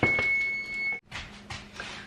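A steady electronic oven timer beep holds for about a second, then cuts off, followed by soft rustling and handling noises nearby.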